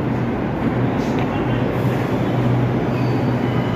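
A metro train rumbles steadily along the tracks, a loud continuous low roar with faint wheel noise and no break.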